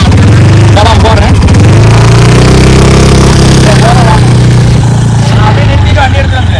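A vehicle engine starts and then runs steadily, loud and close, with a constant low drone throughout and people talking over it.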